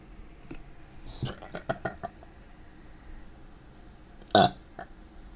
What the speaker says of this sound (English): I need a burp.